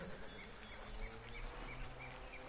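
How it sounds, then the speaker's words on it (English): A sparrow chirps faintly in a video game, a few soft, short high calls scattered over a steady low background hum with no talking. "No, it's a sparrow."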